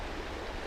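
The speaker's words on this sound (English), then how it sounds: "But right now this water's pumping." Fast-flowing river water where trout hold behind rocks, a steady dense rushing wash that stays loud and even throughout with no voices.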